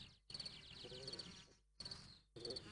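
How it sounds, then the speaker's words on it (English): A cricket chirps outdoors in fast, high trilling bursts, close and fairly faint, broken by short silent gaps, with no other sound around it. "This cricket now seems strange to him."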